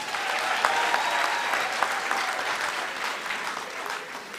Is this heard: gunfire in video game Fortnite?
no